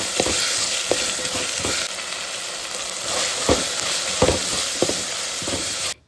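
Cabbage and vegetables sizzle steadily in a hot pan for fried rice, a continuous loud frying hiss broken by several sharp stirring scrapes and knocks, until it cuts off abruptly at the end.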